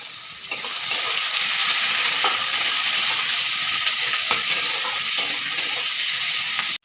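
Chopped onions and a bay leaf with a pinch of salt frying in hot oil in a pan: a steady loud sizzle and hiss close up, with faint stirring clicks and no talk.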